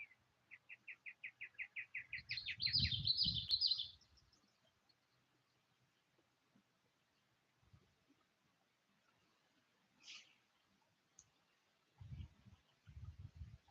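Birds sing outdoors in a breeze near a small creek. A rapid series of chirps builds into a trill, then a long quiet stretch follows with scattered faint calls and soft low rustles.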